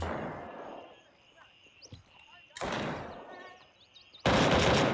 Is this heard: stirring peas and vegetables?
no